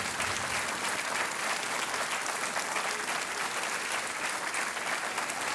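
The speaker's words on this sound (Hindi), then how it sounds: "और तालियां बजती रहनी चाहिए" A studio audience on the quiz show Kaun Banega Crorepati applauds steadily and densely for a contestant's win, a continuous even wash of clapping with no voices over it.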